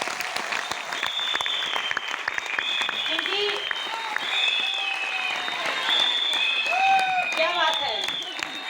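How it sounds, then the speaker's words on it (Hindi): A crowd at a DXN meeting gives loud, sustained applause mixed with shouts and cheering voices, and a speaker talks over it. "तो आप सभी अपने लिए फिर से एक बार जोरदार तालियां"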